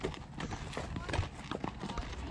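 Horse hooves clip-clop on a rocky downhill trail during a horseback ride through Garden of the Gods, steady and fairly close, with a rider's voice talking over them.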